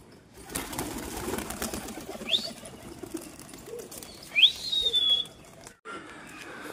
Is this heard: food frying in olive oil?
no